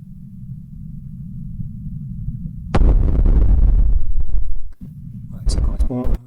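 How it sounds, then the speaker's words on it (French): A loud, deep explosion bursts out after a low hum, rumbling for about two seconds before fading, followed by a sharper second blast. "Je crois que c'est cette explosion."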